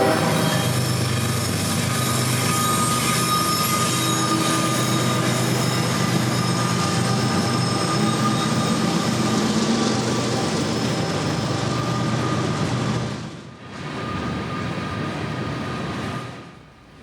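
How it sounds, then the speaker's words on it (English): Southbound manifest freight train M583 rolling through downtown Cartersville, a loud, steady rumble of railcars and clanking wheels that holds throughout, briefly dips near the end, then returns before fading. "the only train that we would see in downtown Cartersville for the entire weekend would be this southbound manifest M583"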